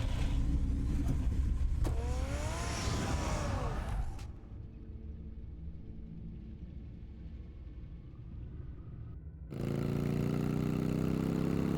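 Car engine in Batman: The Telltale Series rumbling loudly with a rising rev, then dropping to a quiet low idle-like hum before the loud engine rumble returns near the end.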